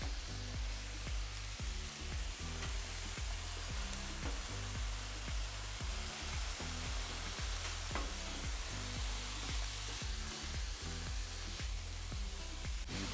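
Onions sizzle and fry steadily on a hot Pit Boss griddle, a loud, continuous crackling hiss broken by a spatula scraping and tapping against the metal surface.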